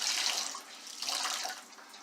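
Water runs steadily into a dye jar for immersion dyeing, a close hissing pour that swells and eases slightly and continues without talking.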